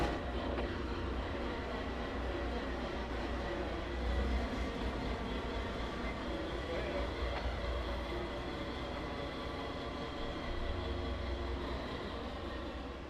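A CSX diesel locomotive, unit 7006, rumbles steadily along in the Trainz rail simulator, a continuous low engine drone with rolling rail noise and no talking.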